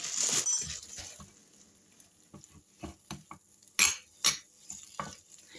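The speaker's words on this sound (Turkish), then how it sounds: "Kök kekiği tekrar kavuruyorum." Thyme stirred and tossed in a hot pan, with a soft sizzle underneath and a few clinks of a utensil against the pan.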